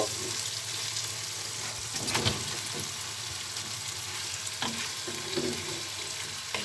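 Chicken pieces fry in a pan with cinnamon and cardamom, giving a continuous close sizzle with scattered crackles and a couple of soft utensil knocks, no talking.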